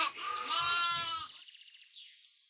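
A sheep bleats loudly and close by in one long, quavering cry that fades, followed by a fainter, higher second call.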